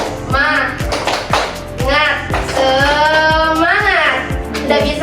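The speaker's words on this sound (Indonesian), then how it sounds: "ibu akan tes semangat kalian untuk belajar hari ini, yaitu tepuk semangat seperti ini" A teacher claps out a rhythmic Indonesian classroom spirit cheer, sharp hand claps landing in a steady pattern while her voice and children's voices run over and between the claps.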